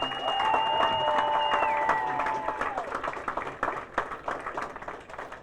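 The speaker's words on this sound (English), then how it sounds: "I want to hear a rousing round of applause for all the men and women of the NYPD to thank them." Audience applause at a New York precinct National Night Out event honoring NYPD officers, steady clapping that thins into scattered claps, with sustained whistle-like tones over the opening seconds.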